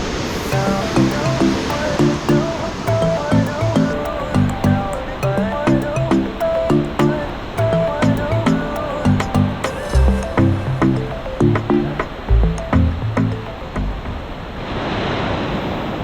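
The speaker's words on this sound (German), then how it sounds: "weil die Wellen rauschen so laut" Loud waves break on a rocky beach near Souda Bay, Chania, on Crete, a steady roaring surf that fills the scene continuously for the whole stretch, with a rhythmic tonal pattern running underneath.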